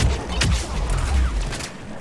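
Mass Effect 3 multiplayer gunshot, a sharp crack quickly followed by a deep whooshing power-charge boom, loud and close, with no talk.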